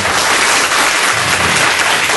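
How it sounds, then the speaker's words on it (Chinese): Warm applause for a professor at the end of a workshop session, a dense burst of many hands clapping at once that stays loud and even for a couple of seconds. "再次感谢吴教授，我们赐予热烈掌声"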